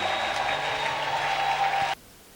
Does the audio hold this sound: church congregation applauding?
yes